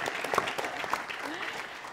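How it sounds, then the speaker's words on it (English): Audience applause at a forum event, a scattered patter of many hands clapping with a couple of sharper claps standing out, fairly quiet and distant, with voices mixed in. "can we clap for them?"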